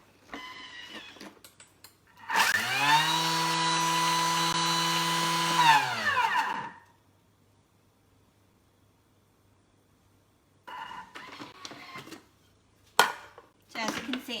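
A kitchen appliance with spinning blades runs for about four seconds to throw lactation cookie mixture off the blades, a loud steady whirring motor hum that stops abruptly, followed by silence and then a few clattering knocks.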